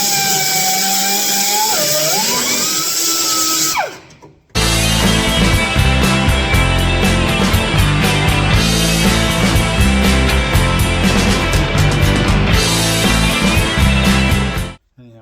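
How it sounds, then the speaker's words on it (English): A grinder cuts into a motorcycle frame to recess a nut, starting with a high whine that drops and cuts out, then returning as loud, harsh, continuous grinding up close until it stops near the end. "I'm going to actually grind the frame and recess this nut"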